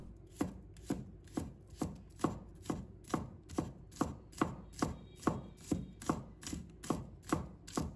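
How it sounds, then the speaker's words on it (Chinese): A knife chops scallion whites into small pieces on a cutting board, a steady run of about sixteen sharp, close chops at a regular brisk rhythm, with no voices. "再准备几根葱白，把它切成小粒"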